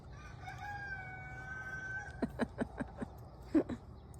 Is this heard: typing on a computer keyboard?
no